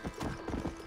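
Horse hooves clip-clopping at a steady galloping rhythm in the Red Dead Redemption video game, close and continuous over the short stretch, with a faint low hum beneath.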